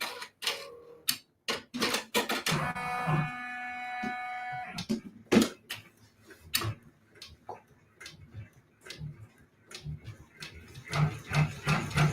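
A computerized embroidery machine stitching a quilted Christmas gingerbread design, giving off irregular close clicks and ticks with a brief whirring hum between bursts.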